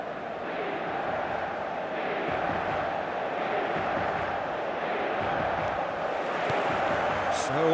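Stadium crowd noise in the eFootball video game, a steady broad roar of many voices throughout, with chanting swells and a slight rise near the end.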